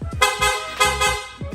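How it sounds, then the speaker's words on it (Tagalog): Loud Piaa aftermarket horn fitted to a Honda Click v3 scooter blasts in three quick, close honks, each a bright brassy toot with short gaps between them, with no talking over it. "Loud horn sir."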